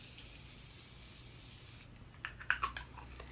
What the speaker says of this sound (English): Next I'm going to spray my face with my Morphe Mist.